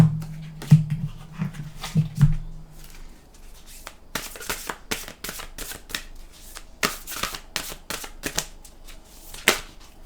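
A deck of oracle cards is shuffled in a run of crisp riffling bursts that come and go over several seconds, close by, after a low dog whimper near the start.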